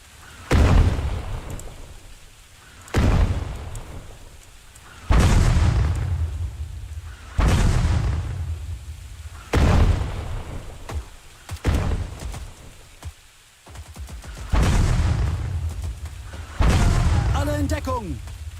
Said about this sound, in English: There's a whole lot of artillery fire there.